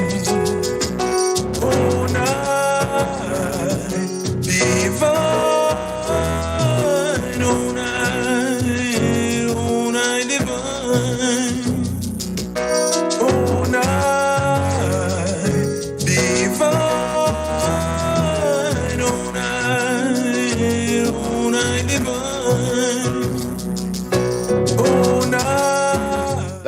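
A new Christmas song plays: a full, dense arrangement with sustained melodic vocal lines over steady accompaniment, continuous and fairly loud, with no talk over it.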